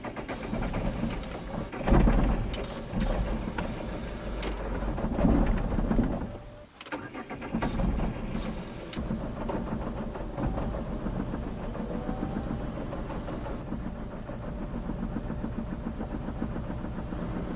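A Peugeot 307 car engine cranks and catches, then runs unevenly on three cylinders with a rough, uneven idle, close and steady after a brief dip in level.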